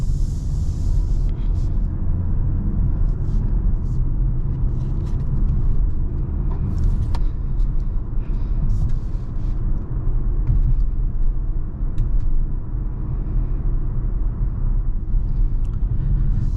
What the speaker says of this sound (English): I really love the way how smooth this thing drives